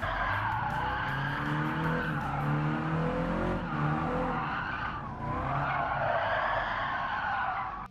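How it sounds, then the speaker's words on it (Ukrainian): A car drifting in Gran Turismo 7, played with a steering wheel, gear raised to second while the slide speeds up: continuous loud tyre skidding and squeal over a droning engine, unbroken for the whole stretch with slight swells in pitch. "Поступово ми починаємо збільшувати швидкість в заносі, можемо вже включити другу передачу."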